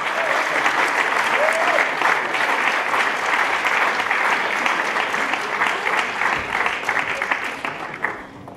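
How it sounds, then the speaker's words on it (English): Dense, sustained applause from an audience at a local radio awards ceremony as an award winner is welcomed on stage, loud and continuous before tapering off near the end. "please give him a round of applause"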